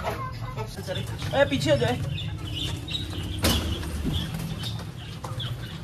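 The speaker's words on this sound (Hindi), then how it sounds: "इसमें दाना डालते हैं, ज्यादा सारा डालते हैं ना, और भी डालते हैं ताकि सारी मुर्गियां खाए यार" A flock of chickens clucks and squawks while being fed grain from a steel bowl, with busy overlapping calls and wing flutters close by, and someone talks over them.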